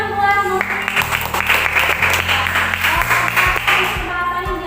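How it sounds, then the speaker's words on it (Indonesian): Students in a classroom applaud a classmate, a burst of scattered hand clapping from a small group with steady tones and background noise underneath, moderately loud and sustained. "Ya, tepuk tangan buat Nurfi."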